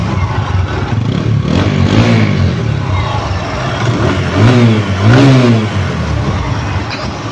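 A 2022 TVS Apache RTR 160 ABS motorcycle revs up twice in short bursts from a steady idle, the engine note rising and falling loudly close by.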